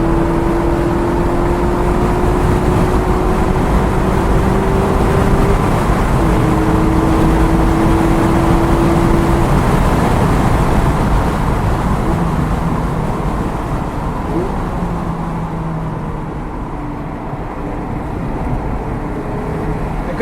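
A loud engine droning steadily from inside a 2017 Mazda MX-5 RF on a race track, with pitch shifting as it accelerates and eases off into a corner, continuous throughout.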